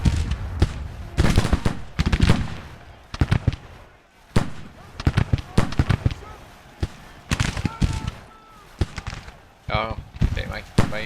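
Civil War infantry fire in a strategy video game: irregular crackling volleys of musket shots, bursts of rapid pops and louder single reports, with some voice sounds between them.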